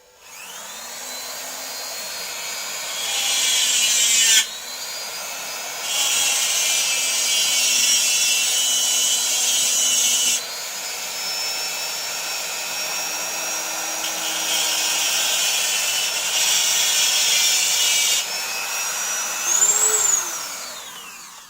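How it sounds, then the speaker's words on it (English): Hand file rasping against a metal part of a WLtoys A959 RC car servo arm, heard as repeated loud grinding strokes in bursts, close up with short pauses between passes and no talking. "If you don't have Dremel, you can use this tool. I believe it's called File, just to file it a bit."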